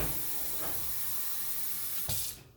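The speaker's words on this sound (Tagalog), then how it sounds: "Tapos po ito ay lagyan natin ng tubig." Water poured into a blender runs in a steady hissing stream, with a brief splashy burst near the end before it cuts off.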